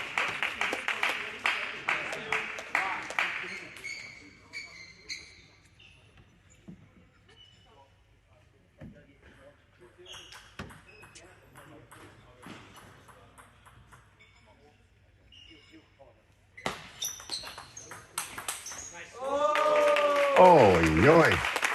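Crowd applause breaks out after a forehand winner at a table tennis match in Christchurch, a burst of clapping at the start and again near the end, with ball pings between and a commentator talking.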